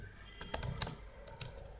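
Keys tapped on a computer keyboard while entering an SQL delete query, a quiet, close run of irregular clicks in two bursts with a short pause between.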